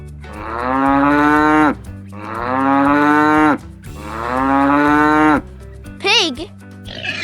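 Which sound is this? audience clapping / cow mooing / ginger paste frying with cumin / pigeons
cow mooing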